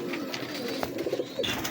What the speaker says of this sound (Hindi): ये गैस फिरोजपुरी कबूतर है